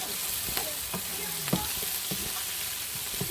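Vegetables sautéing in a pan for samosas, a steady close broadband sizzle of frying with occasional stirring scrapes and clinks, no talking.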